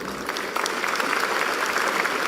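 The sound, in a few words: applause for speaker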